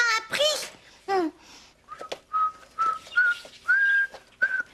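A person whistles a string of short, clear tones after some excited childlike babbling, the whistles coming in a steady rhythm of brief rising notes, close and fairly loud.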